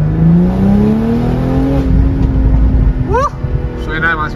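A race car engine revs loudly and close by, holding a rising droning pitch before a few sharp quick blips of the throttle.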